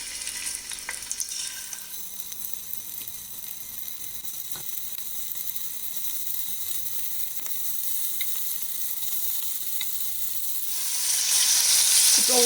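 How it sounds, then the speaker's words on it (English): Prawns going into hot oil for prawn biryani, a faint steady frying hiss that swells into a louder, fuller sizzle near the end, heard close and without talk. "Now the oil's hot. I'll go ahead and add the prawns."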